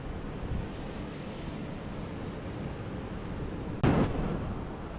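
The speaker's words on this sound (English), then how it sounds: "The waves." Ocean surf rolls in along the shore, a steady wash of breaking waves under wind and microphone buffeting, with one sharp brief knock near the end.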